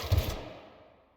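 A short burst of gunfire in The Outer Worlds, a few close, punchy shots in quick succession that fade into a decaying tail, with no talk over it.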